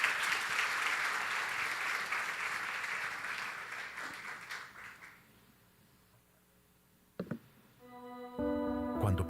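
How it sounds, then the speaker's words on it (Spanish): A church congregation applauds the pastor at an anniversary service: steady clapping for about five seconds that fades away, followed by a brief thump and music starting. "Aplauso por favor para el pastor"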